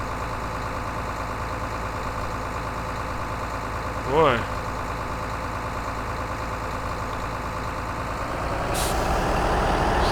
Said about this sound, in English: Sounds like a real tractor